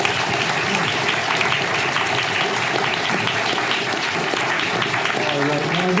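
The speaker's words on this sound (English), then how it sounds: "I know we just did it, but one more round of applause for these incredible gentlemen" An audience applauds warmly and steadily after a speaker-series presentation, a dense wash of many hands clapping at moderate distance with no break.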